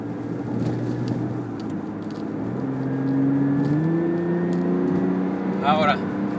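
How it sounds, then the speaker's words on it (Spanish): A 2014 BMW Z4 sDrive 35iS with its turbocharged six-cylinder engine pulls steadily, the engine note climbing in pitch as it accelerates, with a faint turbo whistle riding above and a brief chirp near the end. "el sonido del 6 cilindros es muy característico de BMW, y ahora con el silbidito del turbo"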